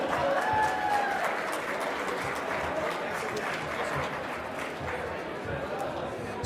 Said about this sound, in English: Another round of applause for Bill.